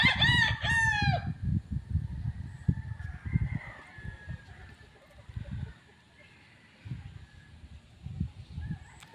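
A rooster crows loudly once near the start, then scattered clucks and shuffling farmyard noise continue, with faint chicken calls in the background, at a place with many chickens.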